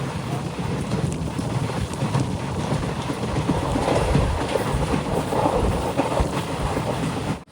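Kanchanjungha Express sleeper train rolling along on the way to Tripura, a steady broadband rumble and rush of wheels and wind that holds loud and continuous throughout, with no voices.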